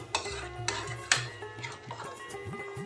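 A spoon stirs jackfruit curry (echor kosha) in a pot on a gas stove at very low heat, with a few soft metallic clinks and scraping, faint and close.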